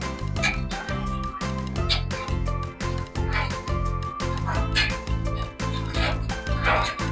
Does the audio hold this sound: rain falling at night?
no